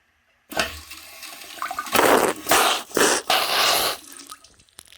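A Bio Bidet Slimedge bidet sprays water in strong, rushing bursts that surge and ease several times over a few seconds, close and loud, with no talking.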